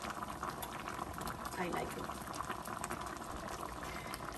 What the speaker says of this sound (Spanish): ahora vamos a dejar que hierva un poquito, unos 2 a 3 minutos